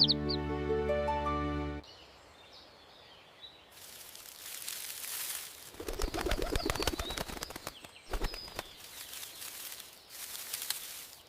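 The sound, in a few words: sparrows chirping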